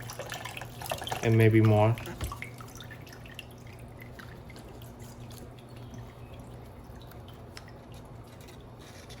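Water drips and trickles from orchid pots of oncidium types during watering, soft and close in a quiet space, with a brief spoken phrase near the start.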